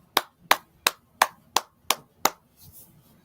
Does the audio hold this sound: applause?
yes